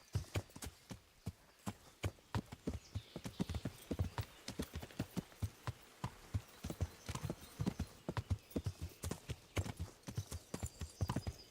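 Horse hooves clip-clop in a quick, steady trotting rhythm in the video game Kingdom Come: Deliverance, close and crisp, continuing throughout without pause.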